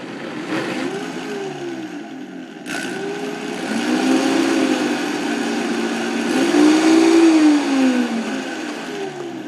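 A Vitamix blender whirs through sweet potatoes and apple for baby food, its motor whining loud and close, with a pitch that climbs and wavers as the speed changes.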